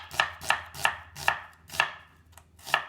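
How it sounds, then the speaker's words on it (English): A knife slices thinly through an onion on a cutting board, giving seven crisp, evenly spaced chopping thuds at close range with no voices. "You slice the onion thinly like this."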